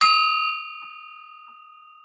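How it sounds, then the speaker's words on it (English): A single bell struck once to open a business session, a clear bright ding that rings on and slowly decays in a quiet room. "we have to do the official bell ringing"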